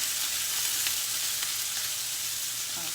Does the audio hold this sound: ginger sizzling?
yes